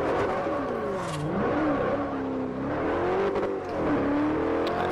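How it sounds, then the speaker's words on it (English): Bugatti in Forza Horizon accelerating hard, its engine note rising and dipping through gear changes in a loud, continuous close-up roar with no talk over it. "Get some decent speed going with the Bugatti"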